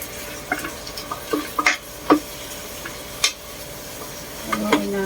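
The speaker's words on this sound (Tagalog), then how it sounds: "haluin natin" Pork adobo with bone-in pork pieces being stirred in a pan, a handful of scattered scraping and clinking utensil strokes over a low simmer, fairly close and quiet, with no one talking.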